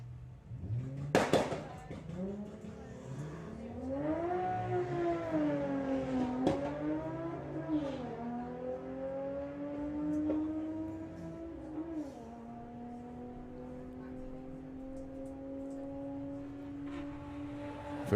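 Volkswagen drag cars, including an Audi A3, launching at Santa Pod, heard from a distance as rising engine revs that swoop and climb through gear changes, then settle into a sustained high drone, with a sharp crack near the start.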